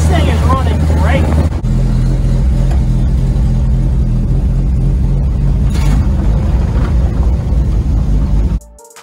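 Kustom hot rat rod with an inline six running close by, a loud steady low engine rumble holding for several seconds before cutting off, with someone talking over it at the start.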